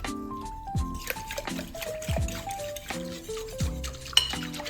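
A cheap two-dollar Walmart wire whisk clinks and scrapes around a bowl in a home sourdough kitchen, in quick irregular taps and stirs under steady background music.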